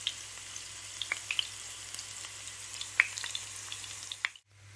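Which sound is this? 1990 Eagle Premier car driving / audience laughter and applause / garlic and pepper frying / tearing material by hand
garlic and pepper frying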